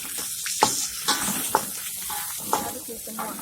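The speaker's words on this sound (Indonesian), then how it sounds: "Nah, kita aduk mie." A spoon stirs noodles in a hot pot of spiced broth for coto Makassar, giving a steady sizzling bubble with several sharp scrapes and knocks spaced about a second apart, close and without talking.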